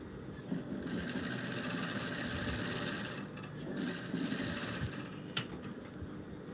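A sewing machine stitches fabric in bursts of rapid mechanical whirring, stopping briefly between runs, close and moderately loud with no talking.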